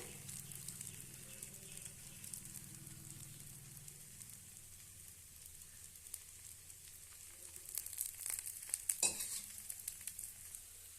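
A dosa cooks in ghee on a pan, giving a soft, low sizzle that swells into a busier crackle toward the end, with a brief scrape partway through.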